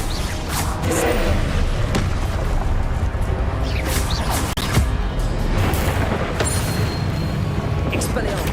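A Descendo spell cast in the Hogwarts Legacy video game lands as repeated heavy booms and crashing thuds, dense and loud across the stretch with sharp impacts scattered throughout.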